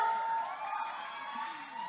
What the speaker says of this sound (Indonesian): Boleh dong kita kasih tepuk tangan yang paling meriah?